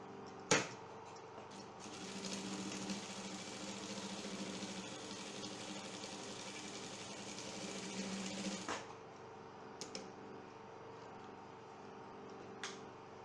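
Sewing machine stitching darts on a frilled skirt, a steady whirring run of about seven seconds between a few clicks and knocks, fairly quiet and close.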